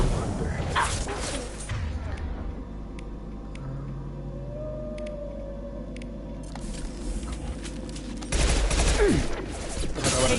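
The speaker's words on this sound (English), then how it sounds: "Taking fire." Gunfire from the game Mass Effect 2 in a dense, noisy battle mix, with bursts at the start and a louder stretch near the end and quieter rumbling combat sounds between them.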